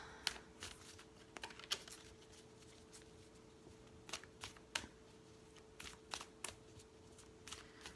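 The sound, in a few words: shuffling playing cards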